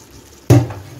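A hilsa fish head drops into a pan of softened ash gourd, giving a single sudden clatter followed by a short fading sizzle.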